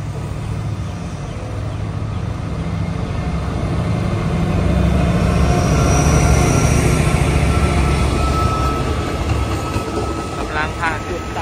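Express train 171 hauled by QSY 5203 diesel locomotive pulling out of Ban Pong station in Thailand, a steady loud engine rumble and rolling rail noise building slightly over time, with brief high tones near the end.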